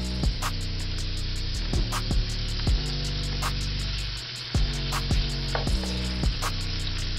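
Shrimp sizzle and fry steadily in a hot pan, a loud continuous crackling hiss broken by a few sharp clicks and thumps of handling.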